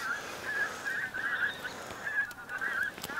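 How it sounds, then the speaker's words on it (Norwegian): Pink-footed geese honk repeatedly during a goose hunt in Trøndelag, Norway, a steady series of clear calls from a flock at moderate distance over outdoor wind noise. "Kom i kortnebb gås, dere."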